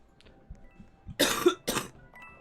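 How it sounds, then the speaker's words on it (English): Two sharp, close coughs from a person break a near-silent background, the second following the first after a short pause, with faint soft sounds around them. "This cough, bro."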